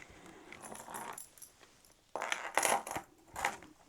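An eight-sided die rolls across a table in a few short, clattering bursts with quiet gaps between them, close and fairly light.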